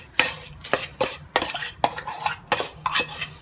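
A utensil stirring a dessert mixture in a mold, giving six or so close scraping, clinking strokes in a steady rhythm with short pauses between them and no voices.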